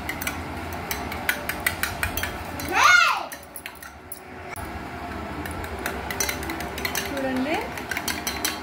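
Batter being mixed with salt and turmeric in a bowl for a homemade snack, heard as a steady run of quick clinks and scrapes against the bowl under a faint background hum, with a brief louder swirl partway through.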